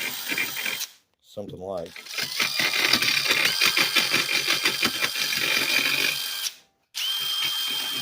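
Metal edges on a homemade emergency cooking oil lamp being deburred with emery: a continuous close, gritty whirring grind with rhythmic scraping strokes. Someone speaks briefly at the start, and there are short pauses in the grinding.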